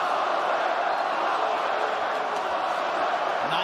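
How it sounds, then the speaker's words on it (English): Dense arena crowd noise at a UFC bout in Hawaii, a steady wash of cheering and shouting for Max Holloway against Justin Gaethje, continuous and fairly loud with no break for its short length. "Ninth Island crowd getting behind Holloway early."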